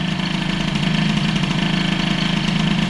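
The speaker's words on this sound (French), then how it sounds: "mais dès que j'ouvre les gaz, c'est beuh" Peugeot 103 moped engine with a carburetor being tuned, a steady buzzing two-stroke drone held up close and fairly loud, with no talking.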